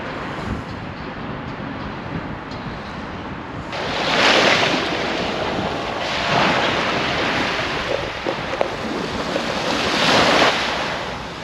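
Surf washing onto a quiet, chilly Costa Blanca beach near Alicante, a steady broadband wash with three swelling wave surges spaced a few seconds apart, plus some wind noise on the microphone. No one speaks.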